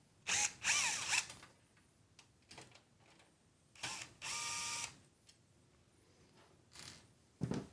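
An electric screwdriver drives screws into an NZXT H6 Flow PC case in several loud whirring bursts with short ratcheting clicks, separated by quiet pauses and fitting and handling noises, with no talk.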